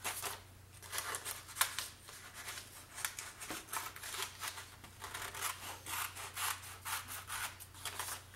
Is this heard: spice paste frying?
no